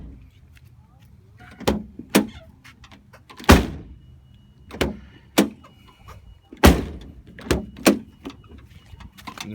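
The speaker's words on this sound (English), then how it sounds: "Just slam the door." A BMW 318ti car door is slammed shut repeatedly, with sharp, loud thuds at irregular intervals against a quiet background.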